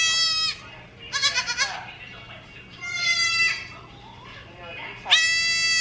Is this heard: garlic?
no